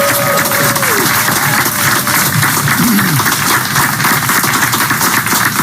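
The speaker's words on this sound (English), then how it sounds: "So let me ask for a round of applause for the president," A large crowd at a political speech gives loud, continuous applause for the president, dense clapping with cheering voices and a brief whistle rising over it throughout.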